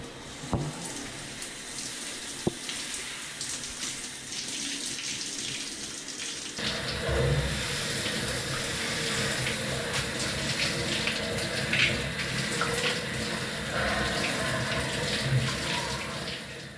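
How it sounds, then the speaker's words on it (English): A shower runs steadily with a continuous hiss of spraying water, close and fairly loud, and it grows fuller and heavier partway through. "Nothing beats a fresh shower"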